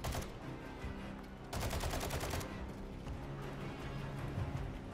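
Rapid automatic gunfire in Call of Duty on Rebirth Island, dense bursts of shots with a sharper, louder volley partway through over constant game noise.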